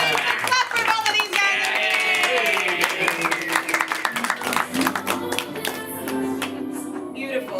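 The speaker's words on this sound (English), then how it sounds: "Clap for all of these" A studio audience at a comedy show breaks into applause, with bright clapping and cheers sustained over several seconds and voices shouting through it.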